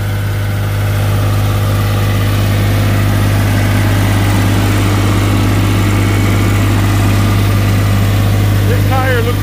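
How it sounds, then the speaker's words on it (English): A New Holland L785 skid loader, its seat safety switch faulty, idles steadily up close with a loud, constant low engine drone and hum and no change in pace, while someone speaks over it. "Motor sounds good."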